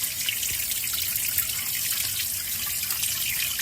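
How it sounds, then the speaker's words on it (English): Water from a garden hose flushes out the radiator of a 1985 Toyota MR2, a continuous hissing, splashing spray that stays steady and fairly close throughout with no talking. "rinsing it out with hose water is no better, but I'm flushing it out right now"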